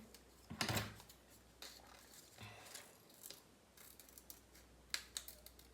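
Scissors snip through paper while cutting out a paper keyboard, a series of faint, close crisp cuts and rustles scattered irregularly across a quiet room.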